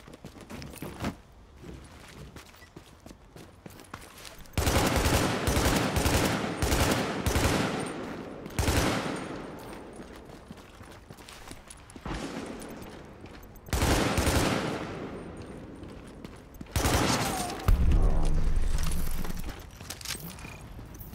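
Burst-fire assault rifle shooting in the video game The Division, rapid clusters of sharp shots in several separate volleys with quieter gaps between, loud and close.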